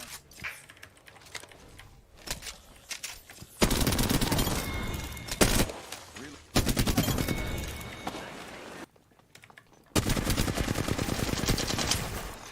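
Video game gunfire rattles in long automatic bursts, dense rapid shots broken by short gaps, loud and continuous across most of the stretch.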